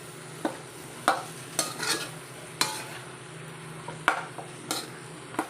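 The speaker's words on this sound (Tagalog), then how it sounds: "haluin lang natin" Okra frying in a pan, stirred with a utensil: sharp scraping clacks recur every half second to second over a steady soft sizzle, no voices.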